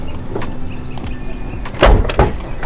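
A Mitsubishi Evo 9 door, a salvaged car mid-rebuild, is swung open in a garage, with a soft mechanical rustle followed by two firm, close thunks as it clears the body.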